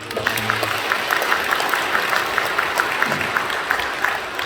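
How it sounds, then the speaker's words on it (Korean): A church congregation applauds at a Sunday service, steady dense clapping that fills the room for several seconds at moderate volume, with a faint voice briefly audible at the start. "박수해 주시죠"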